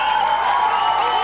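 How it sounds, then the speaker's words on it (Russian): Brief burst of crowd applause and cheering from French team fans at a school KVN comedy contest, a dense loud wash of clapping, heard alone. "по бурным аплодисментам французских болельщиков я понял"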